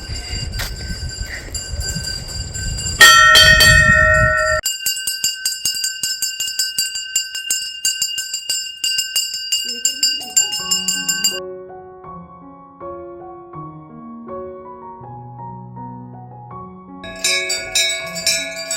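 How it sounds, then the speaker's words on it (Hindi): Temple bells ringing during Sawan-month lamp offerings near Badrinath, a dense run of bright metallic strikes with lingering tones, followed by softer melodic chimes and a brief return of clanging at the end. "घंटी बजी रही है।"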